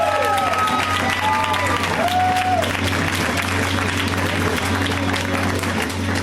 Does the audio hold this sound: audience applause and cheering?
yes